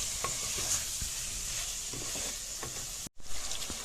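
Chicken fries with spices in a pan while being stirred, a steady close sizzle broken by scraping spatula strokes at irregular intervals, with a brief cutout near the end.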